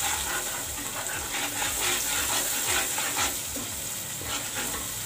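Okra simmering in yogurt-spice masala in a pan over lowered heat, stirred continuously, with a steady sizzle and frying hiss under rhythmic scraping strokes of a spoon against the pan.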